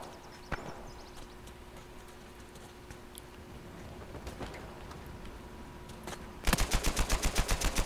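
Gunfire in the video game Uncharted 4: A Thief's End: scattered single shots over a low game ambience, then a loud rapid burst of automatic fire closing out the stretch, with no talk.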